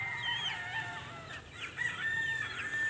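Gamecock on a game farm crowing in a couple of long, wavering cock-a-doodle-doo calls, fairly close, with other fowl clucking faintly behind and no voices.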